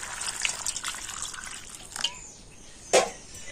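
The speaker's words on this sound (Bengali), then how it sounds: "আর এখন আমি আমের মধ্যে দিয়ে দিচ্ছি জল" Tap water runs onto freshly cut raw green mango pieces in a bowl, a soft steady splashing gush with a couple of brief louder spurts near the end, close by and alone.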